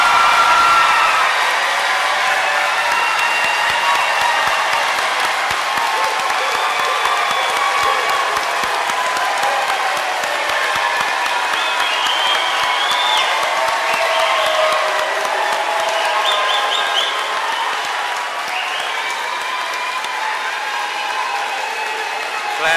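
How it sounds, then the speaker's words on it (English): A large graduation ceremony crowd applauds the high school class of 2021, sustained dense clapping mixed with scattered cheers and whoops, filling a wide space for over twenty seconds at an even level. "Let's give this class a round of applause."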